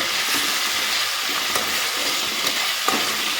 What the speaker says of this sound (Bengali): মশলাটাকে ভালোভাবে কষে নিব